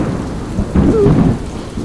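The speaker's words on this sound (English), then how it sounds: "And another storm is brewing." Rain falls steadily over a low rumble of thunder that swells about halfway through, a continuous thunderstorm wash with no voices.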